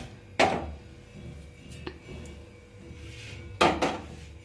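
A pot holding one litre of milk is set down on a gas stove, giving two sharp metallic clunks of cookware with a few lighter clinks between them, close by.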